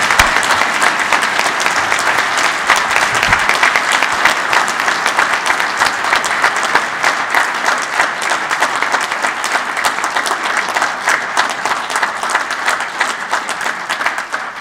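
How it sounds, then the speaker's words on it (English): A large audience at a naval graduation ceremony claps for the graduates, a loud, dense, sustained wash of applause that holds steady throughout. "please join us in a round of applause for our graduates"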